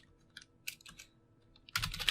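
Scattered keystrokes tap on a computer keyboard, sparse at first and then a dense burst of rapid typing near the end, close and clear in a quiet room.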